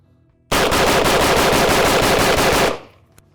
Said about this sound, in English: All right, so that's an AR-15.